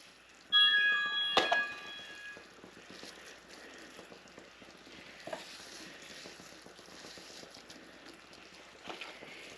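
Ground turkey dropped into a hot pan with spices, a loud burst of sizzling that settles into a steady frying hiss with occasional stirring scrapes and clinks, no talking.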